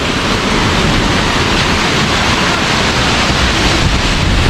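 Aberdeen Waterfalls roars in a dense, loud, continuous wash of falling water, blown spray and wind buffeting close to the microphone.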